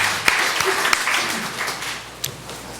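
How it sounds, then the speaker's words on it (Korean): A church congregation applauds after being invited to give glory to God, a brief burst of clapping with scattered sharper claps that fades toward the end, fairly close and with no speech over it. "박수로 하나님께 영광을 올려드리겠습니다."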